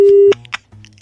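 A telephone call cut off on the line gives a single steady electronic tone, loud and close, lasting only a moment before it stops abruptly, followed by faint background noise.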